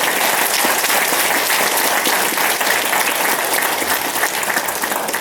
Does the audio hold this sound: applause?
yes